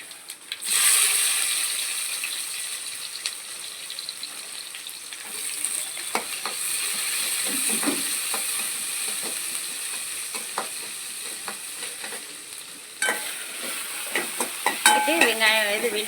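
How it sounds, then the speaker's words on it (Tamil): Cumin seeds and onions frying in a pan for an okra tamarind curry, giving a steady hiss of sizzling oil with intermittent spatula scrapes and taps, which grow busier and louder toward the end. "கொஞ்சம் சீரகம் போட்டு இது பொரியட்டும். இது பொரியலையே கொஞ்சம் வெங்காயம் எடுத்து போட்டுக்கிறோம் வதக்கிறதுக்கு."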